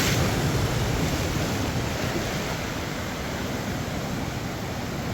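Waves wash steadily over a rocky shore as the tide rises, a continuous loud rush of surf mixed with wind buffeting the microphone, with no voices.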